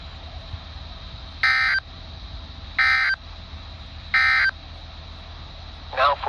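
NOAA Weather Radio alert tones for a weekly test sound as three evenly spaced loud electronic bursts of about a third of a second each, followed by a short warbling chirp at the end.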